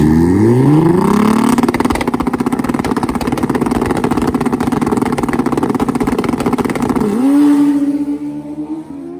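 Two turbocharged Hayabusa motorcycles drag racing side by side, very loud engines screaming upward through the gears in a sustained roar, then a sudden drop to a lower, steady tone as the run ends.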